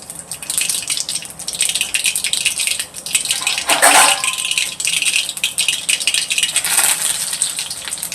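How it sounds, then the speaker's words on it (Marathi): Cumin and mustard seeds crackle and sizzle in hot oil, tempering for a spicy village-style drumstick curry, a steady hiss with a louder burst of spattering midway. "तर इथे ना आपण जिरा आणि मोहरी आता टाकून घेणार आहोत"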